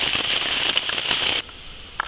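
Steady hiss of rain falling at night on and around a tent, dense and close, cutting off abruptly partway through and leaving a quiet background with a few faint drops.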